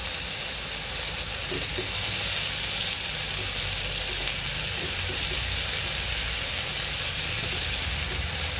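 Chicken pieces fry in a pan as they turn brown, giving a continuous crackling sizzle that stays even and close from start to end, with no talking.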